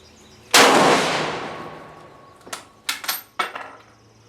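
A single loud, close gunshot from an Argentine 1891 cavalry carbine with a short barrel cracks and then rings out into a long decaying echo, followed by several metallic clicks and clatters of the action being worked.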